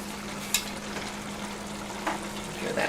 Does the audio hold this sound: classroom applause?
no